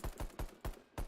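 An Arctic AK fires in the video game Rust, shown as a quick burst of five evenly spaced shots, each a punchy thump, fairly faint and with no other sound between them.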